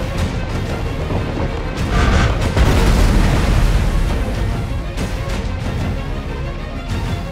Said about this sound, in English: how these bolts up close puncture into the ship and tear it apart